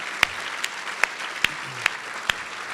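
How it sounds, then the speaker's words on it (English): Audience clapping at a Tax Foundation 75th anniversary event, a thin scattered applause with several sharp, distinct claps standing out at irregular intervals over a low hall murmur. "please join me in applauding the Tax Foundation's work"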